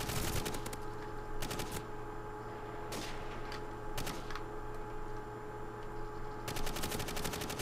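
Automatic weapons fire in Call of Duty 4 rattles in loud, rapid bursts that stop and start several times, with sharp single cracks between the longer volleys.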